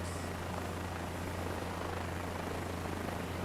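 A helicopter in the game Microsoft Flight Simulator 2024 drones quietly and steadily, a faint continuous low rotor hum with no talk.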